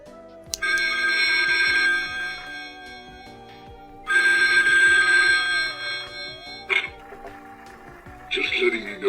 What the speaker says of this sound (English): this is a haunted phone, and when I just press it, this is what really happens to it